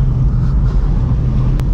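A car engine labours in second gear climbing a steep mountain road near Haldwani, Uttarakhand, a loud, steady low rumble mixed with wind buffeting the microphone.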